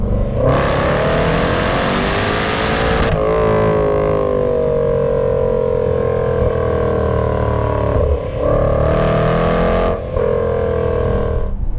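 A Jaguar F-PACE SVR's engine accelerates hard, loud and close, with rising revs, brief drops at gear shifts and a strong roaring exhaust throughout, no voices.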